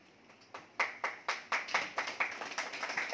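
An audience claps at a newspaper anniversary celebration. Sharp, distinct claps start sparsely and then build into a brisk, fairly loud run of applause that stays close by, with no talking.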